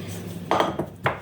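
A few light clinks of a spoon stirring in a bowl, soft and close, a couple of short taps spaced out.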